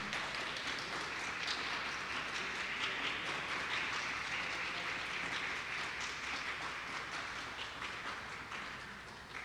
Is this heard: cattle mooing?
no